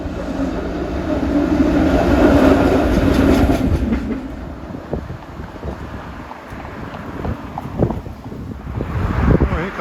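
SEPTA route 36 trolley climbs the steep grade on Woodland in Philadelphia, an inbound car with a loud sustained rumble and rattle passing close, buffeted by wind noise, no voices.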